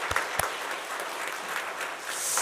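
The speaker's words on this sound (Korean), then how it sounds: "우리 하나님께 감사하고 또한 그동안 수고해 오셨던 믿음의 선배들께 감사하다고 한번 박수로 우리 인사했으면 좋겠습니다" Church congregation clapping together at a Sunday morning service marking the church's anniversary, a dense steady wash of applause with a few sharper claps near the start, filling the hall without speech.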